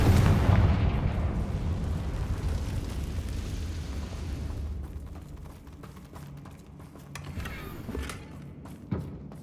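A Confringo spell blast in the video game Hogwarts Legacy sets off a deep explosion that booms and rumbles away over a few seconds, followed by small crackling debris and a sharp pop.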